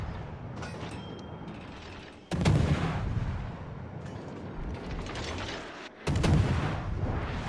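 Heavy naval shell fire in a warship battle game: two loud, sudden blasts about four seconds apart, each bursting wide and sharp then trailing into a long rumbling decay, over a steady churning background of engines and sea.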